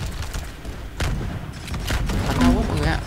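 Gunfire in the Roblox pirate battle game Pirate Clash, a rapid scatter of booming shots and thuds in a steady exchange, with a voice talking over it.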